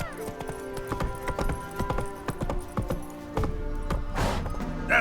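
Hooves of Roach, the horse in The Witcher 3 video game, clip-clop in a quick steady rhythm, close and clear, with a brief swell of noise near the end.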